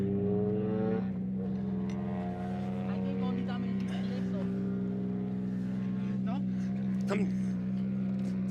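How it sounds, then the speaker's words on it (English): A rally car at WRC Rally Sweden 2023 roars past on a stage, its engine note rising and falling over a steady low drone, with people talking nearby throughout. "Watch our back, there's another car coming through."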